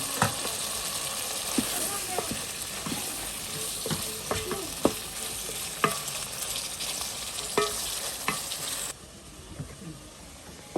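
Capsicum stir-frying in an oiled pan gives a loud continuous sizzle and hiss, with a spatula scraping and clicking at an uneven rhythm close by, then the sizzle quietens near the end.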